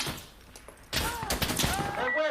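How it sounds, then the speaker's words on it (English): Burst of gunfire in the tactical shooter game Insurgency, a sharp volley of overlapping shots that starts partway in and rolls on loud and dense, with a voice speaking over the shooting. "I'm taking fire. I'm taking heavy fire."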